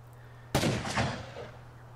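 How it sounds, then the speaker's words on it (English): Gunfire during a raid in the video game Rust: a sudden loud burst of shots breaks over a low steady hum, followed by a rattling volley that fades out gradually, with no talking. "it looks like we can see some more gunfire over here on the ground"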